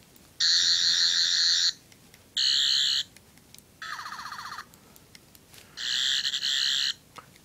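An 11th Doctor toy sonic screwdriver sound effect plays in four electronic warbling bursts, separated by short pauses, loud and close.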